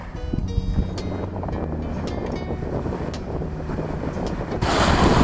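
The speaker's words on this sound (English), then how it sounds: "We're sailing today." A sailboat under way sailing north toward the 10,000 Islands, with heavy wind buffeting the microphone and a low rumble of water against the hull, gusting louder at the end.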